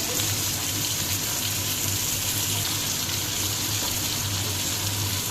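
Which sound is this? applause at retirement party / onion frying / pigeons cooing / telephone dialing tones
onion frying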